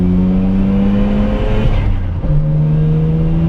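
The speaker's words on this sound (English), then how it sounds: "I just can't quite get that throttle right to downshift" A Porsche 993 sports car engine blips and revs during a downshift, heard up close from inside the car as a loud, steady drone that dips and shifts pitch twice as the throttle changes.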